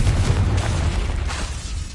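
A Confringo explosive spell from Hogwarts Legacy goes off as a loud, deep boom with crackling bursts, a second blast following about a second later, alone with no talk.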